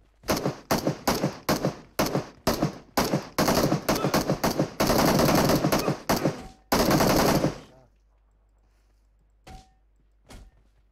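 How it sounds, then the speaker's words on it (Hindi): Rapid automatic gunfire from a shooter video game rattles out in loud, repeated bursts for several seconds, then gives way to near silence with a couple of faint, brief game sounds at the end. "उसने बहुत सारी गोलियां खर्च कर दी।"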